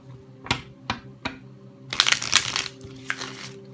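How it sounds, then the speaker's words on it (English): Tarot cards are tapped a few times, then riffled in one quick, crisp burst up close, followed by a couple of soft taps. "One last shuffle."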